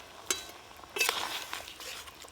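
Fried tengra fish going into a pan of masala gravy with water, a couple of splashy clatters and soft sizzling stirring, fairly quiet.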